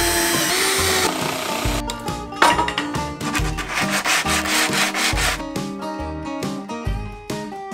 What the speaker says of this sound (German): jetzt wird gesägt.